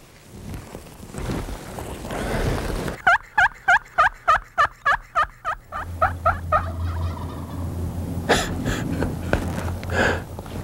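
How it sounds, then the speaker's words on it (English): A wild turkey gobbler lets out a rapid rattling gobble, a burst of about a dozen quick throaty pulses, clear and moderately close in an outdoor setting with faint wind behind it. "generally they gobble, and the hens yelp"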